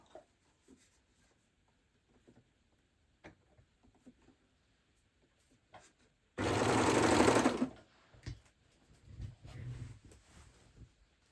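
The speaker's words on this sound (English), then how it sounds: "so that'll just go on to normal overlock now. And then I'm just going to whiz that off." An overlock sewing machine runs through fabric in one loud, continuous burst of about a second and a half, surrounded by quieter handling noises and small clicks.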